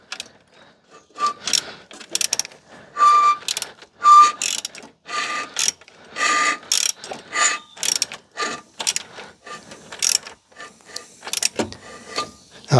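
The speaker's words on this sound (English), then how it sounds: "That's the peg rubbing on the flywheel." On a Citroën 2CV engine that won't start, a locating peg rubs and clicks against the flywheel as the engine is turned by hand, giving a series of close, irregular ratcheting scrapes and clacks with brief pauses between them.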